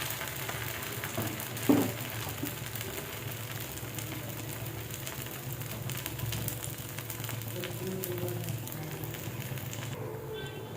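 A dosa fries on a hot oiled griddle, giving a steady, quiet sizzling hiss throughout with one brief clatter near the start.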